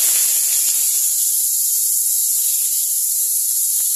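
Eggplant pieces sizzle steadily in hot oil with nigella seeds and dried chillies, a loud, unbroken bright hiss with a few faint pops and crackles underneath.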